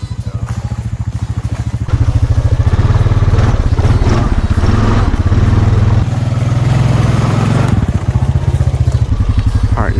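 A Honda Foreman ATV on Outlaw 2 tires churns through a mud hole, its engine thumping loud and close with a steady rapid beat that swells as the throttle opens, with splashing clatter underneath.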